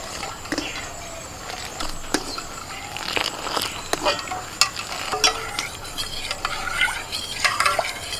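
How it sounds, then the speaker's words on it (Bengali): Powdered milk being stirred into hot milk spiced with cardamom powder, with a spoon scraping and clinking against the pot over a light, steady simmering sizzle. "গুলে নিয়ে পাউডার দুধটা এই দুধের মধ্যে দিয়ে দিচ্ছি।"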